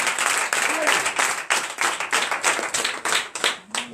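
A church congregation at a morning prayer service in Benin claps loudly in quick rhythmic bursts that swell and ease in waves, with voices calling out among the applause.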